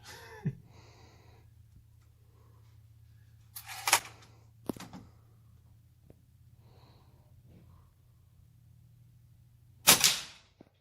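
A Ruger Impact Maxx .22 break-barrel air rifle fires on an indoor range, with a few sharp isolated cracks and puffs separated by quiet pauses, including one loud burst near the end, heard up close with no talking.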